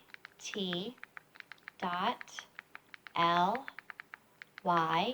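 Keys tapped on a keyboard while a web address is entered, quick light clicks in irregular bursts between stretches of a nearby voice talking.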